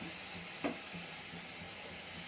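Cabbage pakodas frying in hot oil give off a soft, steady sizzle, faint and continuous, with one brief scrape or stir partway through and no talking.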